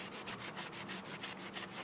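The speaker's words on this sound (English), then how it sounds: "So, let's get that sanded down nicely." Bondo filler being sanded on a Mercedes-Benz SLK wheel, a quick series of rhythmic back-and-forth rasping strokes at close range, with no speech.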